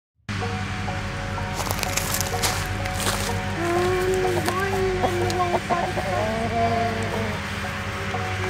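Escaped turkeys clucking and calling close by, a rough chorus of repeated calls over a steady hum, with occasional wooden knocks and scrapes.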